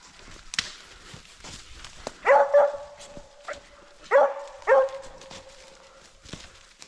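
Hunting dogs bark during a wild boar hunt in the Rhodope mountains, giving a few loud clustered barks with a drawn-out yelping tail, separated by quieter rustling and distant yips.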